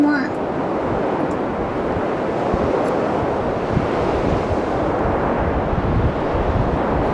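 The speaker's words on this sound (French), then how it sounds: "Le vent se lève." Strong wind gusts across a beach, a dense, steady roar with surf-like rushing, loud and close throughout.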